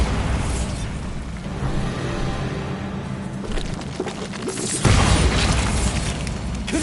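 A Bombarda spell in a Hogwarts game lands as a loud, crumbling explosion with a rumbling tail, followed by clattering debris and then a second sharp, heavy burst.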